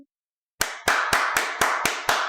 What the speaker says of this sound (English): I'm going to give you a real round of applause and a digital round of applause